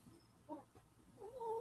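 A cat gives a couple of short meows, faint and somewhat distant, with a quiet room behind it.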